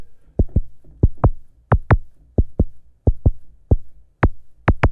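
Punchy modular synth kick drum with a short heartbeat-like envelope, struck in loose pairs and triplets of thumping beats across five seconds, each hit sharp and close with a quick decay, alone with no talking.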